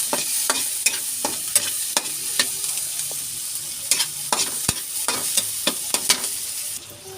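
A utensil stirs sautéed vegetables with tomato in a frying pan while pechay and misua cook, making repeated scraping knocks in an uneven rhythm over a constant low sizzle.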